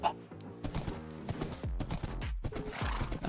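A horse in the video game Minecraft trots along in a forest, its hooves clip-clopping in quick, uneven bursts with a sharp neigh at the start, close and fairly loud.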